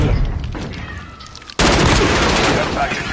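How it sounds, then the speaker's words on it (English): A cruise missile strike in Modern Warfare hits with a sudden loud blast, then a dense, sustained roar of rumbling explosions and rapid gunfire. "Cruise missile go."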